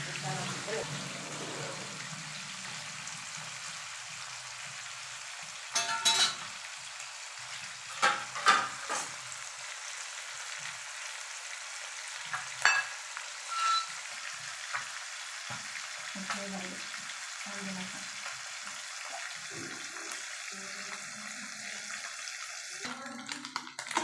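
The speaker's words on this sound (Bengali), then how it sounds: "দেখো, মাছগুলো লাল লাল পোড়া পোড়া করে ভাজি করলাম" Fish fries in a pan, giving a soft, continuous sizzle at moderate distance, broken by a few brief bumps and short bursts of voices.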